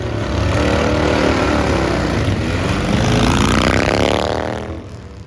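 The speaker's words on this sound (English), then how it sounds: "our first sponsor, Tim, drag racing his bike." A motorcycle being drag raced, its engine holding a loud, high revving drone with rising and falling harmonics, close and steady before fading slightly at the end, with no voices.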